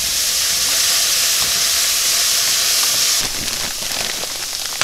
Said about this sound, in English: I'm gonna go ahead and add my onions and just saute them with the mushrooms until the onions soften a little bit.